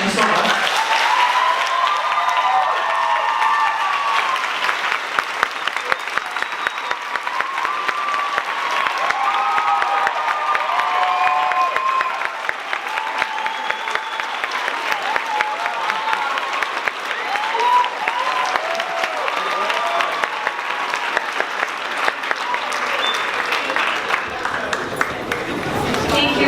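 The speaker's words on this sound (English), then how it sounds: "Let's give him another round of applause" A large audience at a student leadership conference gives sustained applause after a speech, a long, even roar of clapping with some cheering and murmuring voices, continuing at full strength until it cuts off near the end.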